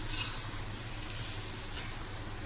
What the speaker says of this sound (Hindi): अब इसकी अच्छी तरह से भुनाई करेंगे।